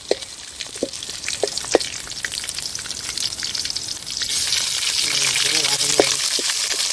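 Ginger garlic paste frying in a pan while duck gravy is cooked outdoors, crackling and popping spits that build to a denser, louder sizzle in the second half, with faint voices in the background.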